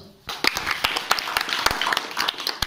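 Hands clap in a quick, uneven run of sharp slaps close by, with a few voices murmuring underneath.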